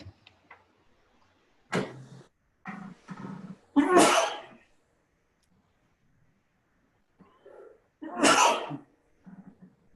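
A person sneezes loudly twice, several seconds apart, each burst sharp and close, with softer sniffs and small throat noises in between during a zone chair training meeting.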